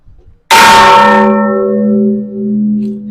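One church bell in the bell tower of the Iglesia Santa Lucía de Ferreñafe is struck once, loud and close, its bright clang settling into a long humming ring that sustains and pulses.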